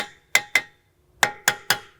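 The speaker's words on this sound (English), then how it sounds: "A good way to do that is tap with a hammer" A hammer taps a rear brake rotor on a 2022-or-later Volkswagen Mk8 Golf R to seat it flush: two sharp metallic strikes, a short pause, then three more, close up and ringing.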